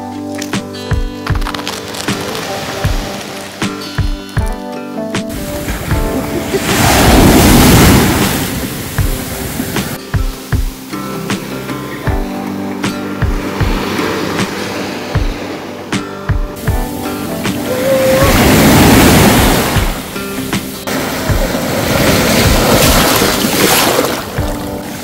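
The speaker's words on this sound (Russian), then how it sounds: "вот здесь хорошая волна с Эгейского океана" Ocean waves roll onto a reef-free stretch of Maldives island beach. Two big surges crash and hiss, separated by a steady background wash of surf and spray, with no talking.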